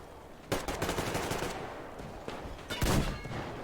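Bursts of gunfire from a first-person shooter, Metro Exodus, sniping in a fight: a loud crack, a quick run of shots, a pause, then another sharp burst.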